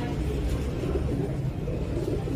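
Pigeons of a prized breed cooing close by, a low continuous burbling coo that fills the short stretch without a break, with no voices over it.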